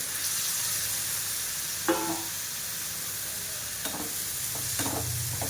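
Soaked kurdai being stirred into masala in a hot pan, a soft steady sizzle with a few brief scraping stirs of the spoon.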